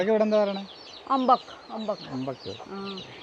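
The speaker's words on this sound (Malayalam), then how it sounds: "ദേ കോഴി ഉണ്ട് കേട്ടോ കോഴി കോഴി" Short bursts of chicken clucking close by, broken into a few quick phrases, with a person's voice mixed in.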